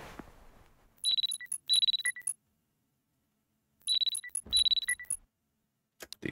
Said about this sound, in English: The alarm is ringing.